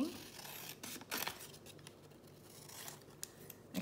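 Scissors cutting paper down for a junk journal label, a few soft, close snips and rustles spread over a quiet background.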